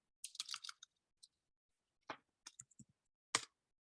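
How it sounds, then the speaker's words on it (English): Sparse clicks of computer keys as a web address is typed, a quick cluster of taps then scattered single presses with pauses, close and quiet in otherwise silent surroundings. "That's just me typing in directly into the URL."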